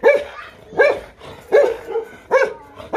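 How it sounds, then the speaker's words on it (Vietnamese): A dog barks loudly and close by in a rural Vietnamese home during heavy rain, giving four sharp barks spaced roughly evenly apart with short pauses between them, and no voices are heard. "chó Dư gọi vào nhà đi"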